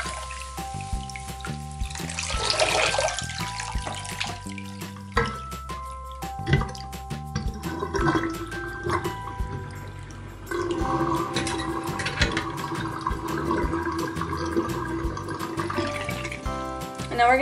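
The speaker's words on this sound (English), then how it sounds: "So what we're going to do now is we're going to just slowly rinse this out." Tap water trickles and drips as a synthetic cosplay wig is slowly rinsed, a continuous watery patter under background music.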